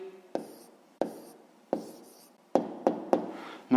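Pen strokes on paper while writing down a math answer by hand, with several short scratchy bursts separated by brief pauses, close and fairly quiet, no talking.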